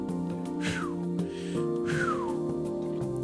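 A sharp, loud whistle comes from someone, two rising-then-falling bursts about a second apart over a steady tonal music bed, with no talk.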